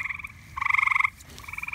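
Green frog croaking near the water while out fishing, three close rapid pulsing croaks, each a buzzy trill lasting a fraction of a second, over a soft low background rumble.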